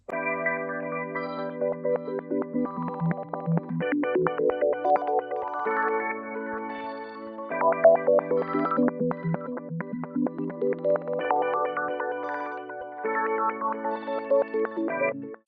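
Processed synth melody through an FL Studio mixer preset with filter, EQ and Portal granular effect, choppy granular texture, swirling filtered and echoing tones rising and falling over several phrases, moderately loud throughout.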